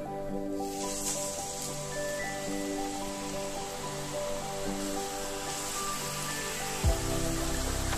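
Rice-flour murukku frying in hot oil in a kadai, a steady broadband crackle and fizz that starts just after the first half-second and runs on continuously under a soft musical background.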